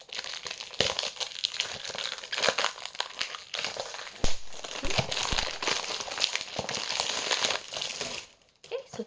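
Crinkling and crushing of packaging as a Lattafa I Am White perfume box is opened, with dense, continuous rustling and crackling close up for most of the stretch, then a brief quiet near the end.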